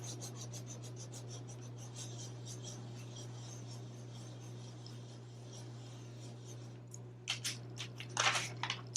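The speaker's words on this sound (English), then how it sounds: "Then you can take a spoon, or I'm just going to use the handle of this, and then we just rub the design on." A spoon handle rubs a pencil drawing onto a homemade carving stamp, giving a steady soft scraping rasp close up, with a few sharper louder rubbing strokes near the end.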